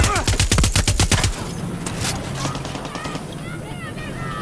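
Rapid automatic gunfire from a mounted turret in Far Cry 6 rattles in a fast, loud burst, then breaks off into scattered distant shots and game noise while voices shout.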